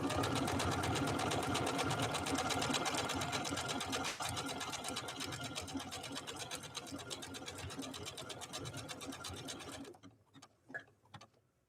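A Janome Skyline S5 computerized sewing machine stitching a decorative mirrored pattern, a rapid, steady mechanical whirring with fast needle ticks for about ten seconds, then stopping abruptly to near silence with faint clicks.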